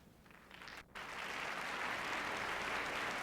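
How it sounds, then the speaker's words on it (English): Concert hall applause from a live 1964 Philadelphia Orchestra audience greeting conductor Eugene Ormandy, a dense wash of clapping that briefly drops out, then swells and holds full and loud. "The applause you hear welcomes the appearance of our music director and permanent conductor, Eugene Ormandy"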